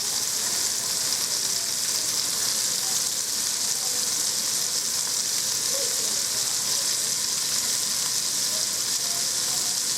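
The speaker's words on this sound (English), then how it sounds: "we're going to get these fried up, and you're just going to turn them every so often" Swedish meatballs fry over medium heat in a pot, giving a constant broad sizzling hiss that stays even and fairly loud throughout, with no speech.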